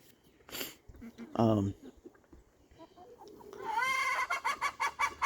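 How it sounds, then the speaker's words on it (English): Roosters clucking nearby, a few scattered squawks followed by a rapid run of clucks, with a voice talking in the background. "So these roosters are feeling really spunky."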